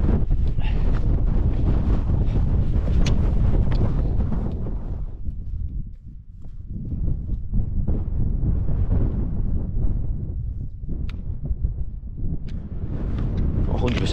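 Strong gusting wind roars across a mountain hike on the Coniston fells in the Lake District, loud and continuous, buffeting the microphone with brief lulls.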